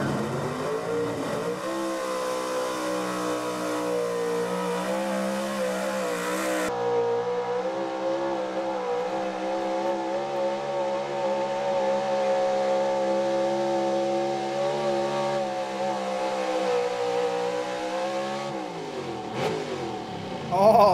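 A pulling truck's engine roars loud and sustained through a truck pull run at the 2023 Listie 2 Day Thunder, its pitch climbing and holding, then shifting near the end, with no talking.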